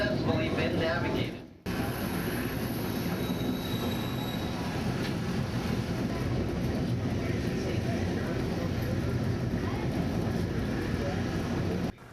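A train climbs an Alaskan mountain railway toward White Pass, a continuous rumble of wheels and cars with brief high squealing from the rails, steady and close after a short cut near the start, with occasional voices.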